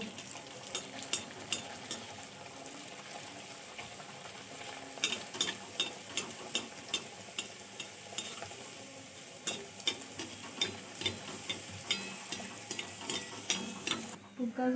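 Mung dal stuffed puris deep-frying in hot oil give a steady, fairly loud sizzle throughout, broken by frequent sharp clicks and taps from a utensil working in the pan.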